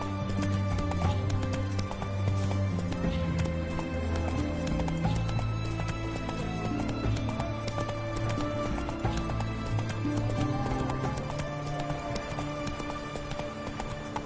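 Roach the horse galloping in The Witcher video game, steady rapid hoofbeat clip-clops with an occasional whinny, loud and continuous over game music and ambience.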